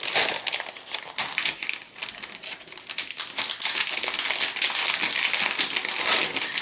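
Plastic bags holding individually packed parts of a 1/48 Focke-Wulf Fw 189 A-1 model kit crinkle and crackle close up, a continuous dense rustle with sharp bursts as they are handled, without any speech.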